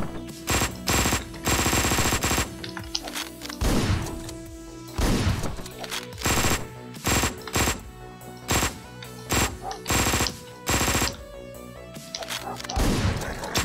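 Rapid bursts of automatic gunfire in the game Hotline Miami 2, loud clipped volleys repeating every second or so with brief gaps between them.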